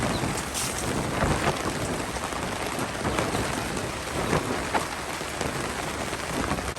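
Heavy rain pounding on a surface, a dense, loud, unbroken hiss with scattered louder drops and some wind, heard alone without talk.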